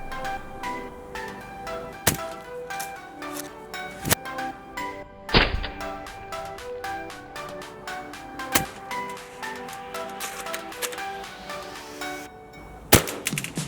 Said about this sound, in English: So with the sniper, the second shot actually breaks the metal.